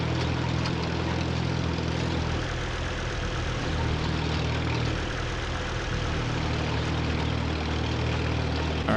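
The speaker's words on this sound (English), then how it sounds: "the constant rattle of this thing's engine" Steady rattling propeller engine of an aircraft in the video game Titan Chaser, a loud constant drone with a rough low rumble, running alone throughout without talk.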